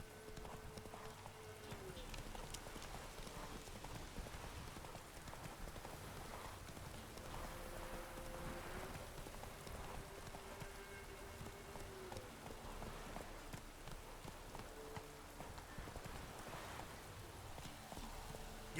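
A horse gallops through rain in The Witcher 3, its rapid hoofbeats clip-clopping in steady rhythm over a constant patter of rainfall, with a rider's voice heard in places.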